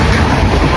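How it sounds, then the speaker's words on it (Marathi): A passenger train running, a loud, dense rumble with steady rolling wheel noise heard from on board. "सध्या फायनली आपण ट्रेनमध्ये चढलो आहे"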